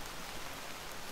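Steady rain in the video game Orthoclase falls as a soft, even hiss, quiet and unbroken throughout with no voices.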